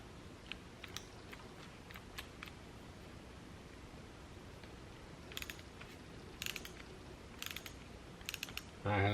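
An antique patented woodworking hand tool made in Philadelphia, Pennsylvania clicks through its ratcheting mechanism, quiet sharp ticks in scattered bursts and short runs over faint background hiss, ending with a louder handling knock.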